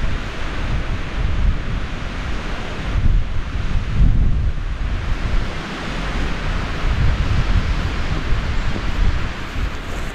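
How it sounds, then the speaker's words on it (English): Strong wind of about 30 miles an hour buffets the microphone on an exposed ridge during a severe thunderstorm camping trip, a loud continuous roar with gusty swells and no voices. "it is super, super windy"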